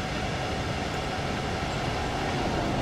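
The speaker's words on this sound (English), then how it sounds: "Oh, there's another train there." A train rumbles past steadily in the German countryside in Train Sim World 3 during a regional express run. The broadband roar holds constant throughout, with no talking.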